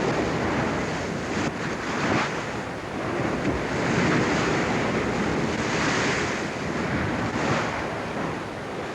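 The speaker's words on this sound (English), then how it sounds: "The wind is a brisk westerly at force 5 to 6, producing bumpy conditions in the shallow water near the bar." A brisk force 5 to 6 westerly blows across choppy shallow water near a sandbar, steady loud wind roar mixed with rolling, surging waves that swell and ease over several seconds, with no talking.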